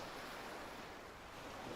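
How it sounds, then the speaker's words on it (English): Ocean waves in the Real VR Fishing video game, a soft, steady wash of surf and wind noise that stays faint and unbroken with no voices. "It's an ocean, though."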